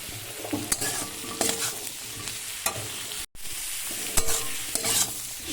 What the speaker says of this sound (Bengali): এবার মাশরুমগুলোকে ছেড়ে দেব।